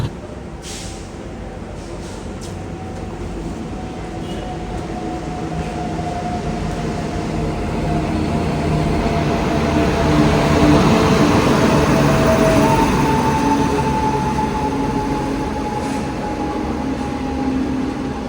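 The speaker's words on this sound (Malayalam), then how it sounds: "ഒരു പാസഞ്ചർ ട്രെയിൻ ഒരു സൂപ്പർ ഫാസ്റ്റിനെ ഓവർടേക്ക് എന്ന് വേണം പറയാം" A passenger train rumbles past steadily, its roar building toward the middle and staying loud, with a sustained tonal whine running through it.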